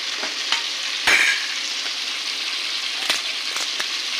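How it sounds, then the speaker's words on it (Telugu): Caraway seeds sizzling in melted butter in a pan, a bright steady crackling fry with a few sharp stirring clinks and scrapes breaking through, close and loud with no talk. "ఇప్పుడు బటర్ ఇట్లా మెల్ట్ అయినాక మనము ఫస్ట్ షాజీరా వేసుకున్నాము."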